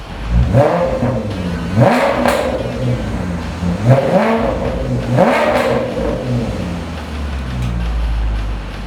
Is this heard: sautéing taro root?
no